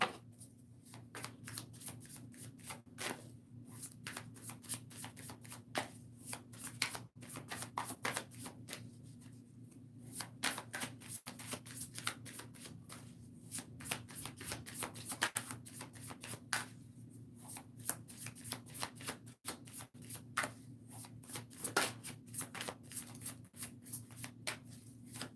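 Tarot cards being shuffled by hand during a live reading, a long run of quick, crisp riffling and flicking strokes, close and fairly quiet, repeating in bursts without talk.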